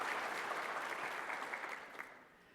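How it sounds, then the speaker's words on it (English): Broad, dense applause from a conference audience thanking its pharma and biotech sponsors, steady and full at first, then thinning and fading away toward the end. "another round of applause for all of our pharma biotech sponsors"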